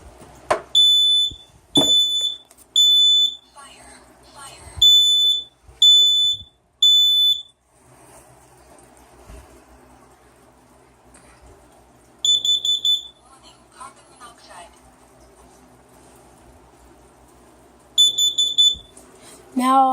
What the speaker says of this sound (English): Last smoke detector.